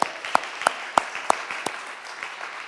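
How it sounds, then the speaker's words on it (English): At a violence prevention coalition meeting, a few people clap in a sparse, fairly regular rhythm, with quiet individual claps standing out before the sound tapers off. "let's give Tammy a big round of applause"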